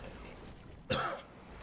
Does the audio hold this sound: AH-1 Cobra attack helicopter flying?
no